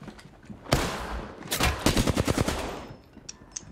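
Bursts of automatic gunfire and single shots in Apex Legends, a battle royale shooter, crackle loudly through the middle of the clip, with a rapid rattling volley and scattered fainter shots trailing off.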